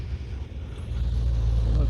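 Road traffic passes close by as a steady low rumble that grows slightly louder toward the end, with a faint engine note above it.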